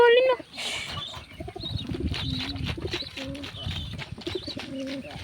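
Pigeons cooing close by in soft, repeated low warbling calls, with a voice talking over them.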